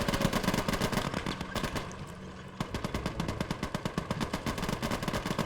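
Soldiers' gunfire in the Gates of Hell war game, set in the Finnish Winter War, with rapid continuous machine-gun bursts rattling loud and close, a brief lull midway, then dense firing again.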